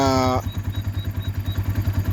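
A Kibo 250 motorcycle, ridden through rain that may have let water in, starts with a brief rising whine and then settles into a steady, close, low pulsing idle.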